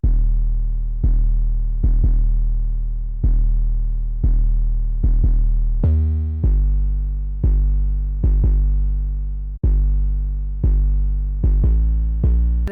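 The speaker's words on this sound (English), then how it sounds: "I grabbed this Spins 808 and I just laid down a simple pattern" A Spins 808 bass in FL Studio plays a simple repeating pattern of loud, deep, booming notes. Each note sustains and slowly fades before the next, with the pitch shifting a few times through the loop.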